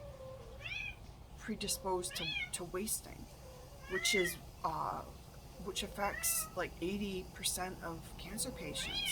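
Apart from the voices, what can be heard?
domestic cat meowing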